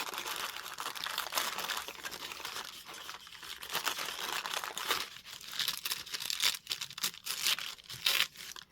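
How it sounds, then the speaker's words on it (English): Paper napkin torn by hand in a series of soft, crisp rips and crinkles, close and fairly quiet, with denser tearing bursts toward the end. "I can tear around this piece."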